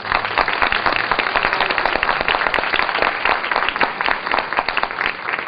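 An audience at a book presentation during the Miraflores book fair in Lima applauds heartily to welcome the author, with rapid, dense clapping that continues strongly for several seconds.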